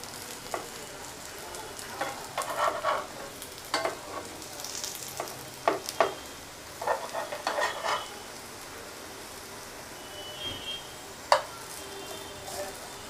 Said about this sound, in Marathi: अशीच प्रकारे दुसऱ्या साईडनी सुद्धा या शॅलो फ्राय करून घ्यायच्या.